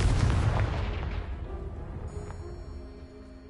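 A Confringo fire spell blasts apart a pile of debris in the Hogwarts Legacy video game, one heavy booming explosion up front that rumbles and decays over a few seconds, with a faint magical chime trailing after.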